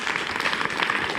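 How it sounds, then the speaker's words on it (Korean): Applause from a lecture audience greeting a guest lecturer at a special artist talk, a dense, steady patter of many hands filling the short stretch at moderate level with no voices. "이희도 선생님께 큰 박수 한번 부탁드립니다"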